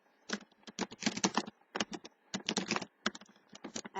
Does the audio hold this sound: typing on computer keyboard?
yes